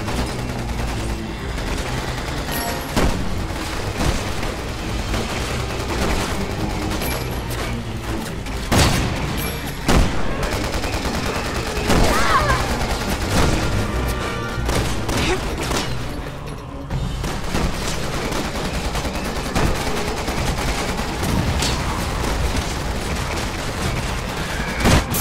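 Rapid gunfire in the Resident Evil 6 video game, with repeated sharp shots, machine-gun bursts and booms over a busy, loud battle soundscape; a voice speaks briefly amid the shooting.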